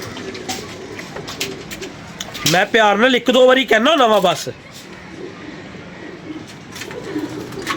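Pigeons coo at home in a burst of soft, wavering calls lasting about two seconds, mixed with nearby household talk.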